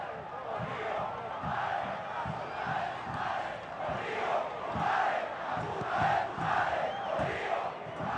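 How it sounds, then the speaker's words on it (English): Guatemalan football crowd at a Concacaf qualifier against El Salvador, chanting in a rolling, pulsing rhythm with rhythmic claps or drumbeats underneath, heard from a distance as a broad stadium roar. "I'm not going to tell you what the Guatemalan crowd is chanting"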